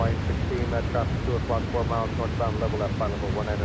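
Boeing 787-9 Dreamliner engines in Microsoft Flight Simulator, a steady broad roar of jet engines spooling back to idle during descent, with a voice talking over it throughout.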